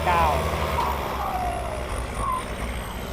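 The engine of an MU 49 tractor runs at high revs, a loud, steady low rumble close by, with a voice talking over it.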